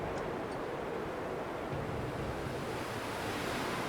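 Steady, roaring wind from the video game The Long Dark rushes without pause, a dense broadband gust noise filling the whole clip with low rumbling buffets.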